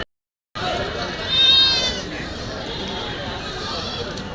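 Goats bleat close by amid a busy crowd, with several voices chattering in the background of an outdoor sheep and goat market in Kadiri.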